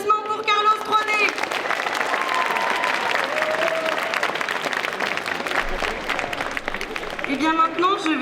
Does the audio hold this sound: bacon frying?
no